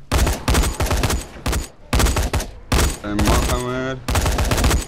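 Loud gunshots from the video game Dying Light fire in a series of heavy bursts, with someone speaking briefly between them.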